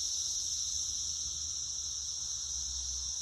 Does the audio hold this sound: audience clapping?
no